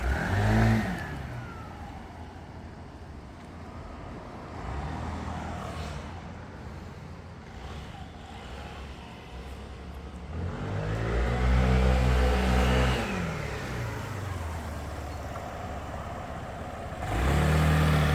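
A scooter with a failing transmission and worn variator rides around a parking lot, its engine revving up and easing off in surges, passing nearby with a loud swell near the middle.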